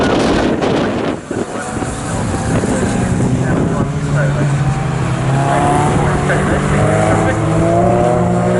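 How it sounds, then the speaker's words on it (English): A race car in a 750MC Club Enduro Championship race at Snetterton roars past at close range, its engine note rising and sweeping by, with wind buffeting the microphone and a commentator talking over it. "Saw there the Darren Kelly car going through the shot"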